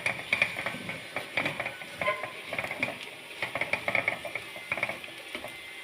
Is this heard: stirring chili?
yes